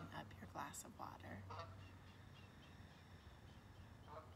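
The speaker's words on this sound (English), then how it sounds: "listening to the geese." Geese honking in the distance during a guided morning breathing session, a few scattered calls over a steady low hum and soft background noise.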